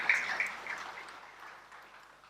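An audience claps at the Woman Boss launch event, a soft, dense patter of applause that starts moderately loud and slowly tapers off.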